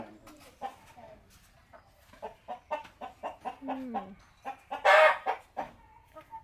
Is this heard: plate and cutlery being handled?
no